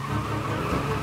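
Car in the video game Mafia Definitive Edition driving with continuous engine drone and tire skid noise, a steady mid-level roar with no pauses and no talking.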